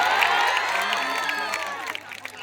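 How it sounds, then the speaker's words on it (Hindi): A live audience at a stand-up comedy show bursts into loud applause and cheering, a dense wash of clapping and shouts that stays strong before gradually thinning out. "धर्माशीष सर के लिए जोरदार तालियां।"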